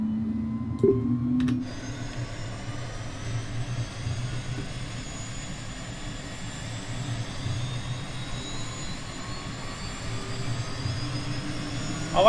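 The engine of a Cirrus Vision Jet SF50 starts up in Microsoft Flight Simulator with a short click, then a steady, rising turbine whine over a low hum that runs throughout.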